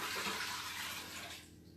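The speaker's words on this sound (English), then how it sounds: "I'll put the rest water, and I just pour it in here." Water pours steadily into an Instant Pot for a couple of seconds, a soft, fairly faint splashing rush that tapers off at the end.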